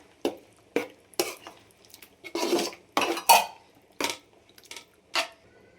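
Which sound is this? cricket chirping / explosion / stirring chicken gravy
stirring chicken gravy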